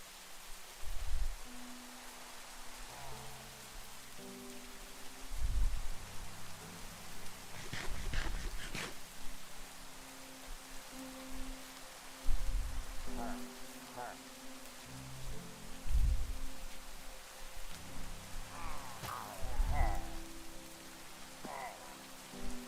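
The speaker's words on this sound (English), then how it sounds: "It really sucks that it's fucking raining." Rain falling in the Minecraft video game, a steady hiss of drops running under game music and scattered effects throughout, with a few louder bursts along the way.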